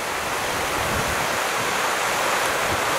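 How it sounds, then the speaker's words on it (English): A stream of clean running water in Nelson Lakes National Park rushes in a loud, steady, unbroken wash, close by and alone with no voices. "Just a whole lot of running water."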